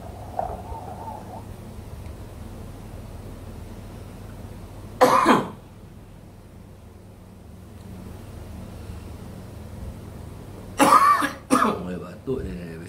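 Two separate bouts of coughing from one person during an online class, a single harsh cough midway and a louder double cough near the end, set against a faint steady background hum.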